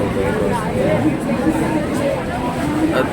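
A crowd murmurs steadily at a rain-soaked railway station where Virar local trains run late, with dense overlapping voices throughout.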